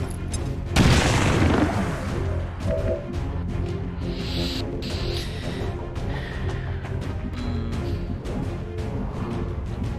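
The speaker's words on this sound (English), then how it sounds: "Let's try a grenade, shall we?" A grenade goes off in the video game XCOM 2, a single loud, close boom with a heavy low blast that decays into rumbling debris and ambient game sound, with no talking.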